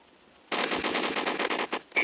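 Rapid automatic gunfire in the mobile video game Special Ops, a dense sustained burst of loud shots starting abruptly after a quiet moment and rattling on close and continuous, with no talk.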